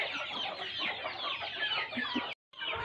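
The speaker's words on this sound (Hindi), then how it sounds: "चूज़ों ने भी हलचल मचाई हुई है कि हमें भी डाल दें" Chickens, a rooster and chicks cluck busily while being fed, a dense, steady chorus of close clucking and chirping with a brief gap near the end.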